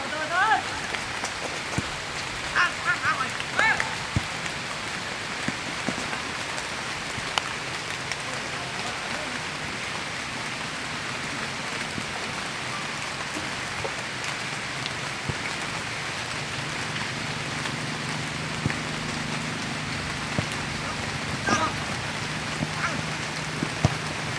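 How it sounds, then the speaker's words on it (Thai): Steady rain falls over rural countryside in Thailand during the rainy season, a constant soft hiss of drops on surfaces throughout with faint ducks quacking in the distance. "สายฝนเริ่มโปรยปลายลงมานะครับ"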